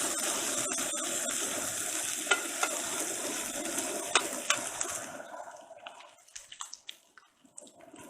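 Pork belly burnt ends browning in a hot pan, a loud, steady sizzle with frequent crackles and pops up close, fading toward the end into scattered spits and stirring clicks.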